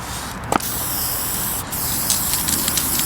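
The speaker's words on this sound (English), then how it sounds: "Don't look at the can, look at where it's spraying." An aerosol spray paint can, thin-cap graffiti piecing on a wall, hisses in steady bursts, with a short sharp spurt early on, a brief pause, then several quick taps of spray near the microphone.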